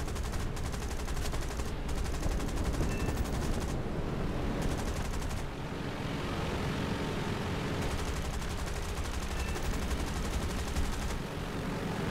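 Aircraft machine guns firing in War Thunder during a realistic air battle over Normandy, a dense continuous rattle of gunfire with brief pauses, loud and steady over engine roar.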